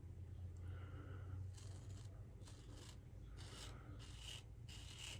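A razor scrapes across stubble during a wet shave, a close, dry rasping that comes in short repeated strokes over a steady low background hum.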